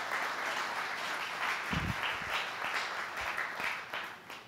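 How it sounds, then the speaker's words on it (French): A church congregation applauding during a Sunday morning sermon, a fairly soft, continuous clapping that stays at one level throughout with a few low thumps underneath. "Tu as le droit d'applaudir Jésus si tu veux ce matin."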